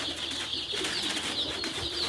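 Pigeons cooing softly in an enclosure, low repeated throaty coos over a faint background hum, with no talking.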